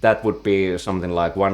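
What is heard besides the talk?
No everyday noises stand out.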